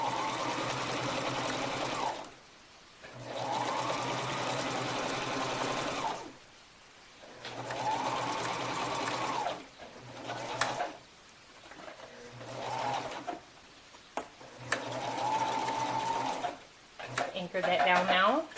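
A sewing machine stitching a shirt runs in several bursts of rapid, steady whirring, broken by short pauses. A person talks quietly in the gaps.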